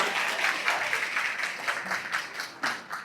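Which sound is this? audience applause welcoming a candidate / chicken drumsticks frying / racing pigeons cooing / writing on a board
audience applause welcoming a candidate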